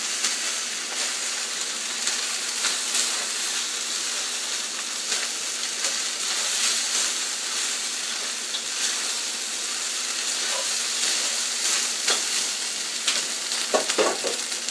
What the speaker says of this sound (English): Mixing it up with the eggs here. Going to add in my vegetables. And mix those around.